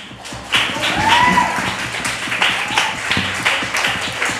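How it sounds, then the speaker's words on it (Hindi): Congregation clapping at a church service, a steady run of claps that swells after the first half second and continues with rhythmic hand strikes, with no talk over it. "तालियां भी बजाएं।"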